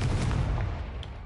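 A Confringo fire spell in Hogwarts Legacy erupts as a loud, heavy blast with a booming low rumble that fades over about a second, followed by a faint high ping.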